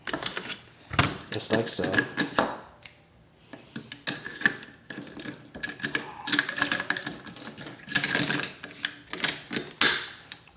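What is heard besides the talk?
rifle bolts being inserted into forward assist test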